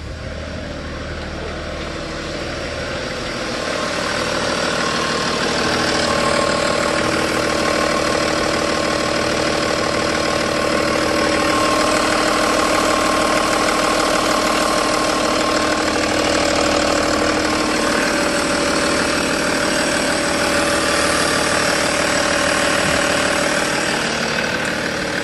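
A BMW 5 Series E60/E61 engine idles steadily up close, a constant mechanical hum and whir with a faint belt-driven tone running underneath.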